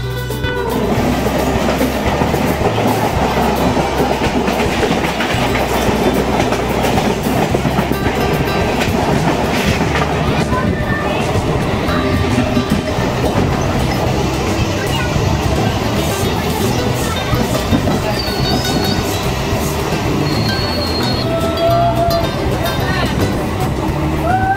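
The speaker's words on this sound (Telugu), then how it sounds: "This is out side part of local train." A local train runs along outside, its loud continuous rumble and rhythmic clickety-clack of wheels over rail joints filling the whole stretch, with faint voices and a few high squeals mixed in.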